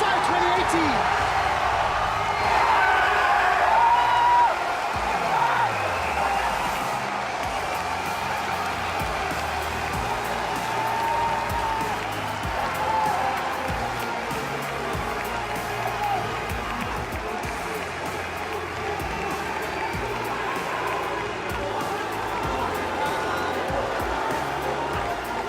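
A large arena crowd at the 2018 League of Legends Mid-Season Invitational final keeps up a steady, roaring cheer that fills the whole stretch, dense and sustained, with commentary voices riding on top.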